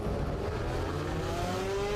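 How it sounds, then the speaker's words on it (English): A safety car circling a race circuit on a familiarisation lap before an endurance race, a steady engine drone with a slowly rising pitch as it gathers speed, moderately near and continuous, no voices. "as soon as the safety car completes this one familiarisation lap"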